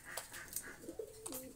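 Fancy pigeons, including white Lakshá birds, coo softly in a short close burst of soft repeated calls over a low murmur of background noise.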